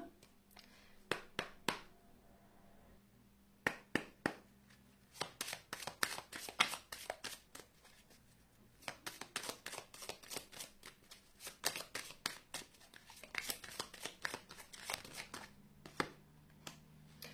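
Oracle cards from the Anka flame deck being shuffled, with bursts of rapid riffling clicks separated by short pauses, close and fairly quiet, with no speech.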